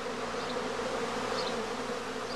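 Emerging honeybees in a swarm held inside a gauze swarm bag, a dense continuous hum with a steady drone, close and even, with no voices.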